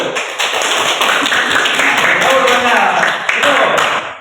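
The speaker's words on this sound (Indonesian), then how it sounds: "Tepuk tangan dulu." Students in a classroom clap their hands together for a few seconds, a dense, steady patter of many hands close by that fills the room.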